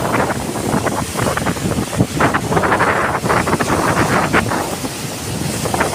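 Strong monsoon waves roar continuously at Kuakata beach, with heavy wind buffeting the microphone in a loud, dense wash of surf and gusts.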